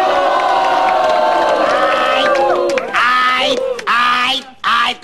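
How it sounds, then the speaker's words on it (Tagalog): An audience shouts and cheers loudly and continuously, with excited whoops rising and falling before breaking off into short bursts near the end. "Ay, tama na muna sigawan."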